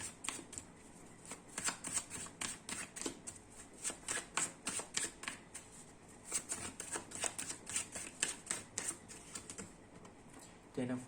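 Tarot cards shuffled by hand in quick repeated riffles, crisp papery flutters in an even rhythm, close and clear with no speech over them.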